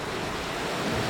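Sea waves on the Latvian coast near Lapmežciems form a steady broadband wash of surf, continuous and fairly loud with some wind rumble, with no voices.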